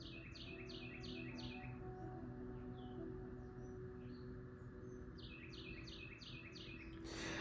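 A bird repeats a quick series of four or five sharp chirps, pauses through a steady low background hum, then delivers another run of five or six, fairly faint and at a distance.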